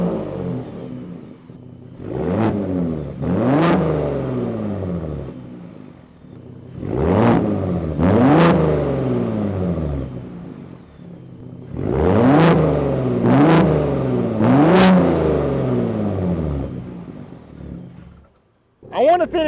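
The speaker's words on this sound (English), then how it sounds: "You wanna show them the different exhaust modes?" A 2022 Gen 3 Ford Raptor with a twin-turbo V6 revs its exhaust across different modes. Loud, close bursts rise and fall in repeated clusters, separated by rumbling idle.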